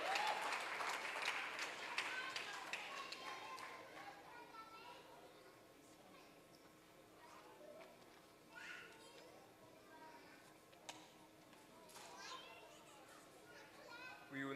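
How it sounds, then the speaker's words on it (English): Applause and cheering for a primary school graduating class of 2022 at a ceremony, strongest at the start and tapering to a lighter patter, with children's voices and chatter mixed throughout. "Let's give them a round of applause, ladies and gentlemen."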